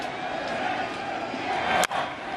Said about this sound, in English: this crowd is groaning here in the first inning